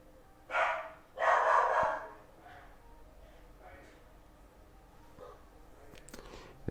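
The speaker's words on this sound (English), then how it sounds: "The dog's been barking all morning." A dog barks twice in quick succession from a moderate distance, two loud bursts early on, followed by quieter room sounds and a faint later yip; a person talks nearby.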